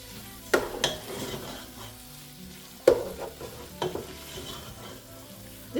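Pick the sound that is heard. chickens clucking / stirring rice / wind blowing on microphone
stirring rice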